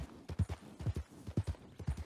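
An old, tired horse named Judas in Red Dead Redemption 2 clip-clops along at an even walking rhythm, its hooves making steady, moderately close thuds with no voices over them.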